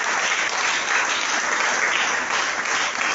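Church congregation breaks into sustained applause, a dense steady wash of many hands clapping at even loudness throughout, with no talking over it.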